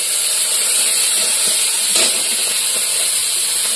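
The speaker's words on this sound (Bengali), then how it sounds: "এবার ফুটবে কিরকম দেখো বন্ধুরা, প্রচন্ড ফুটবে এবার।" Paneer curry in a pan of hot oil, making a loud, steady, close hiss and sizzle that holds at one level throughout, with no talking.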